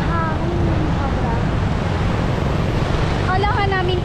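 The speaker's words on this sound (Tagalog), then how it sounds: "Ang hangin. Sobra." Strong wind buffets the microphone at a sunny beach resort in San Felipe, Zambales, a steady loud roar with surf behind it and brief voices talking over the gusts.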